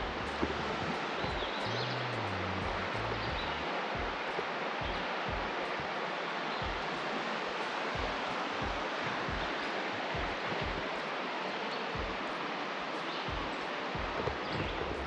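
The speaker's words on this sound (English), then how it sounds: "It's just birds and a river" Steady broadband rush of a river flowing through a Georgia forest near Helen, with a brief low tonal call early on and soft scattered taps over continuous water noise.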